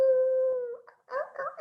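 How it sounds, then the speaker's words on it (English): Coyote howling, a single long steady tonal howl that fades out, followed by a few short wavering yips and whines, fairly close and alone. "You guys know that's a coyote"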